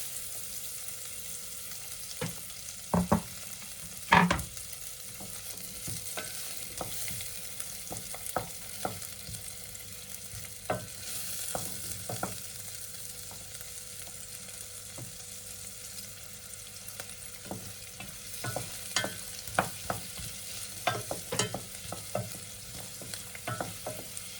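Garlic and onions sizzle in a pan while a utensil stirs them, a low steady frying hiss broken by sharp scraping and clinking strokes, close and fairly quiet, no talk.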